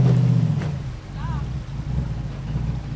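Jeep engine holding a steady throttle while crawling over rocks on an East Coast off-road trail, a low constant drone with a slight dip midway, with brief voices over it.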